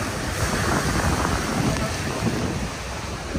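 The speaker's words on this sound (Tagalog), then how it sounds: "Malakas na alon tapos high tide." Strong sea waves at high tide surge in a loud, continuous broadband roar, churning water close by with wind buffeting the microphone.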